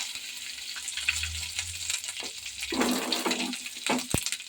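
Peanuts frying in oil in a pan while cooking a puffed-rice breakfast dish, with a steady crackling sizzle and a few stirring scrapes and clinks, close and moderately loud, no talk.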